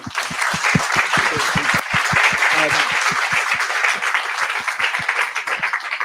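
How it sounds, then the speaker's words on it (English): An audience at a tech meetup gives a warm round of applause, many hands clapping at a brisk, even pace with individual claps standing out clearly near the microphone. "Big round of applause for Nico."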